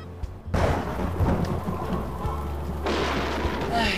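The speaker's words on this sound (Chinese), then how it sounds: "咁大風大雨" Heavy rain pours during a typhoon with thunder, a dense, loud, steady roar of downpour opening with a sudden rumbling surge and swelling again near the end.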